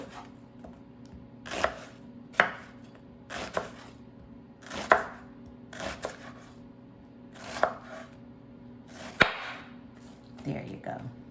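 A knife slicing cabbage into ribbons on a cutting board, with about ten separate crisp chops spaced a second or so apart, close and distinct.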